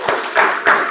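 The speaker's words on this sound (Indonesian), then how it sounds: "tepuk tangan dulu." A class of vocational high school students claps hands in a classroom, a few short bursts of clapping in quick succession, close and fairly loud, with no talking.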